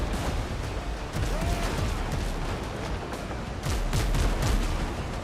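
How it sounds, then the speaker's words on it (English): Heavy volleys of cannon fire from many ships in the naval battle game Windrose, dense overlapping booms rolling continuously at high loudness, with a brief stretch of louder blasts near the end. "God, there's so many cannons,"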